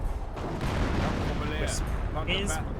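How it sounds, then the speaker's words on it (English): In the video game Company of Heroes, an artillery barrage pounds an AT gun with dense, rumbling bursts and booms, with a few sharper cracks late on. "He's barraging the AT gun that's firing against the AI Panzer IV."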